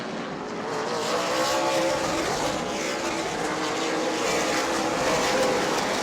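Race cars racing on a short oval track at a weekly racing event, a steady loud roar of several engines blending together at a distance without a break.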